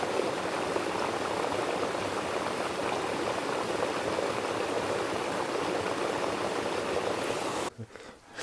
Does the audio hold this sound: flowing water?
yes